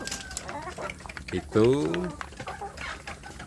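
Village chickens cluck and call close by in a rural backyard coop, with one louder harmonic squawk in the middle, under and between someone talking.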